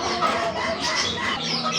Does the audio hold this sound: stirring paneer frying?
no